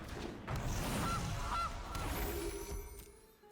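Gilded Goose card in the Magic: The Gathering video game gives a pair of short honks over a dense, steady game soundscape, both calls clear and close, with no talking.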